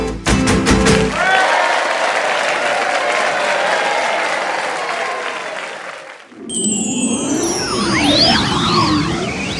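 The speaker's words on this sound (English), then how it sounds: "They are fantastic, and everyone claps." An audience claps loudly in a dense burst of applause that fades out, followed by bright electronic chimes and playful tones.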